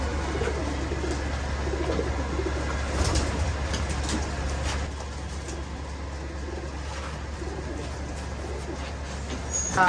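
Pigeons being given a deworming course coo softly over a steady low hum, with a few brief rustles and flutters; no one speaks.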